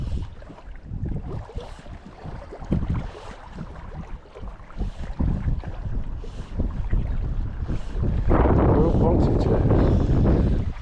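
Wind buffeting across Ladybower reservoir in Derbyshire, a loud, continuous gusty roar pressing on the microphone and swelling stronger toward the end.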